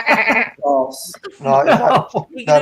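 A person imitates a goat's bleat with a quavering, nasal voice in short bursts amid playful conversation, several voices talking and laughing close to the microphone.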